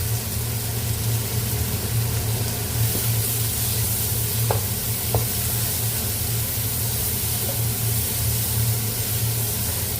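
Vegetables sizzling as they sauté with a little salt in a pan, later joined by cabbage, a steady soft frying hiss with a low hum underneath and a couple of faint clicks, no voices.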